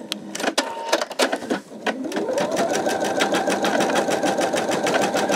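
A Pfaff Creative 4.0 sewing machine embroiders letters, starting up after a few clicks and settling into a loud, steady, rapid needle whir close by, with no talking.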